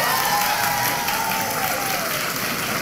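A studio audience on a Puerto Rican talk show breaks into loud, dense, continuous clapping and crowd noise, with a faint tonal hum running underneath throughout.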